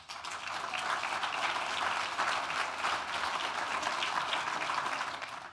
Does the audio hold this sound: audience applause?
yes